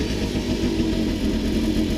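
A Peugeot scooter engine idles steadily, a smooth low putter that runs close and even for the whole stretch with no voices.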